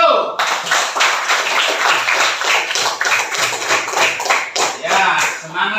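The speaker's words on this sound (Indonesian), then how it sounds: "Iya, tepuk tangan dulu." A primary school class claps hands in a rapid, crisp burst of close, overlapping claps sustained for several seconds, with a voice briefly audible at the start.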